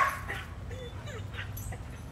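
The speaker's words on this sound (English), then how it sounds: "The dogs are ruining this right now." Dogs whimper and give short yips at a gift opening, intermittent and fairly close, with a low background rumble and people talking faintly in the room.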